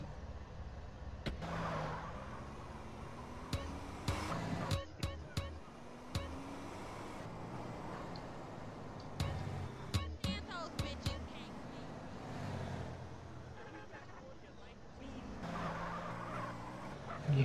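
Cars from a video game car mod drive through the streets. Engines hum faintly and tyres give occasional squeals and sharp clicks and knocks, all low in level, with a voice talking now and then.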